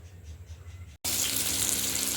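Chopped potatoes, eggplant and spinach being rinsed under a running kitchen tap, a soft trickle that suddenly opens into a loud, steady gush of water.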